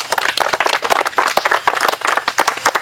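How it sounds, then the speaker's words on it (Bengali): Dense applause from a group honouring newly selected Agniveer soldiers of the Indian Army, GD category, at a Tripura academy; many hands clapping close and loud in a steady patter with no voices. "তালিয়া।"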